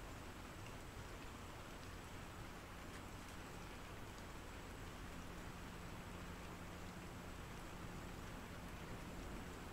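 Steady rain falls continuously, a dense even hiss with no gaps, as if pouring onto surfaces nearby; no voices.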